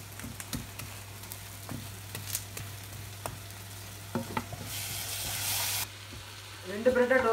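White bread slices toast in a frying pan for a tomato sandwich, with soft crackling sizzle, light scraping and clicks from turning, and a brief louder burst of hiss midway.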